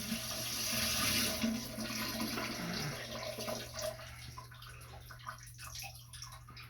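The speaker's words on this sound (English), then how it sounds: "I'm going to cover the microphone and release the water into the toilet." Water is poured out into a toilet bowl, a loud rushing splash that fades into trickles and scattered drips over several seconds, heard close and muffled, with no speech.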